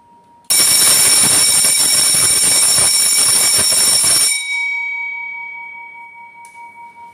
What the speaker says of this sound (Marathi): आता मी तुम्हाला 4 सेकंडसाठी बेल वाजवून दाखवते.